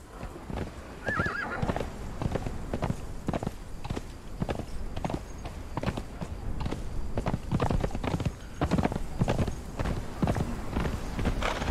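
Horse in the Conan Exiles video game, a steady run of close clip-clop hoofbeats with a short whinny early on, continuing rhythmically with no talk.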